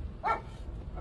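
A single short bark from a large stray dog at night on a city street, faint and somewhat distant over a low background rumble.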